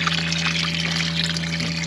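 Water rushes steadily into a portable washing machine inside an RV, a continuous close splashing fill with a low pump hum beneath and no pauses.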